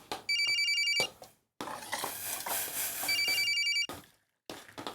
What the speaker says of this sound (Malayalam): ഫോൺ അടിക്കണടി.